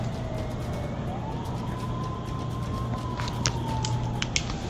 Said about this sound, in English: he hears an ambulance pull up to the defunct hospital